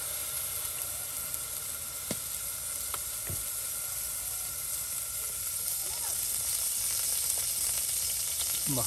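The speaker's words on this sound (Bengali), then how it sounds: "বাটা মশলা দিয়ে দেওয়া হলো পেঁয়াজ বাটা রসুন বাটা জিরা আদা সব বাটা কিন্তু একসাথে দিয়ে দেওয়া হলো" A paste of ground onion, garlic, cumin and ginger fries in a pan with a steady, loud sizzle and hiss throughout, broken by a few faint clinks of stirring.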